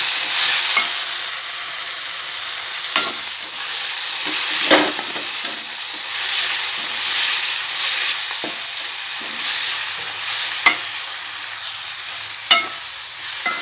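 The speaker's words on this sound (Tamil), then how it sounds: "பூண்டு போட்டு நல்லா வாசனை பச்சை வாசனை போயிடுச்சு நல்லா வதங்கிடுச்சு" Garlic fries in a pan with a close, continuous sizzle, while repeated stirring scrapes and occasional sharp clacks of a utensil against the pan mark the rhythm.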